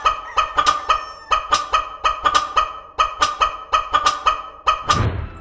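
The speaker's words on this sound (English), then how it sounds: "So here are the chicken sounds clips that you are enjoying in the music." Chicken and fowl clucks and honking calls set to music, loud repeated rhythmic squawks in regular bursts, ending in a noisy crash.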